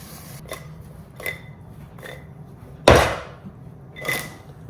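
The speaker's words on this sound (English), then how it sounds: "Chop up that onion for your burger." A few crisp knife chops through an onion on a cutting board, spaced irregularly, one much louder thud-like cut in the middle; quiet otherwise, no talking.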